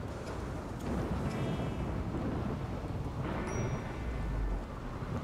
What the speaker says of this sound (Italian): tanto piove ragazzi, va bene